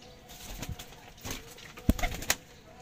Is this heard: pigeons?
yes